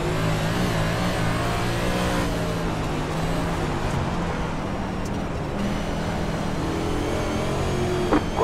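NASCAR stock cars racing on the Bristol dirt track in a racing game, a steady droning engine roar held at high revs with shifting pitch as cars run close together.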